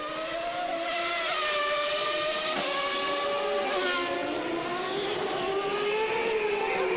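Ferrari Formula One car from 1994 qualifying accelerating on the Adelaide street circuit: a loud, continuous high-pitched engine scream rising through gear changes, steady and close throughout without talk.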